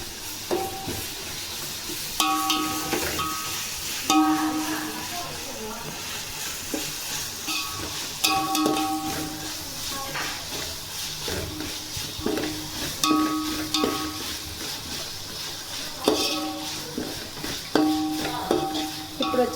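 Ginger garlic paste sizzles in a pan of oil for coconut rice. A spoon scrapes and stirs it in repeated bursts over a constant frying hiss, close up, with no talking.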